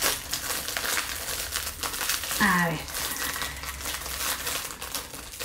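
A clear plastic bag of gummy sweets crinkles and rustles in repeated close handling bursts, while a person speaks briefly over the sound.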